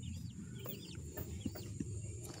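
Young chicks separated from their mother hens peep in a chorus of thin, high chirps, repeated steadily and close by over a constant low background hum.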